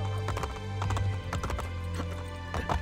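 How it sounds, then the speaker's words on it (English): A horse gallops with rapid, rhythmic hoofbeats and neighs in Assassin's Creed Brotherhood, with the clip-clop steady and close throughout and no talking. "Then we can jump across here on the horse."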